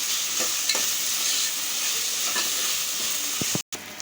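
Curry leaves crackle and sizzle steadily in hot oil in a pan alongside a poppy-seed paste, loud and close with a few sharper pops and a brief dropout near the end, with no voices.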